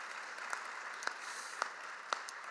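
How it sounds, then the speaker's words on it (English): An audience at a conference plenary session on regulatory frameworks applauds, a steady, fairly distant wash of clapping with a few sharper claps standing out, and no voices. "What about a round of applause for all of them?"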